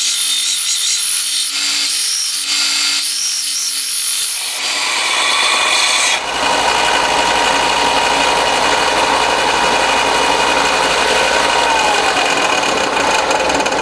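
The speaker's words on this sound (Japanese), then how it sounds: "あとはグラインダーでこの溶接部を引き剥がせば2枚できます" An angle grinder cuts apart a welded joint on a part for a handmade 125cc four-cylinder, 16-valve engine crankcase. It makes a loud, continuous abrasive grinding roar close by, with the pitch shifting partway through.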